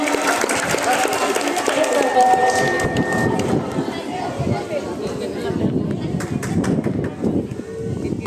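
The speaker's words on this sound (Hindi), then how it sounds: "पूजा के लिए आप लोगों के बाद जोर से ताली बजाइए।" An audience claps loudly for a Class 10 student at a school ceremony, with steady applause mixed with crowd chatter and a voice talking over it.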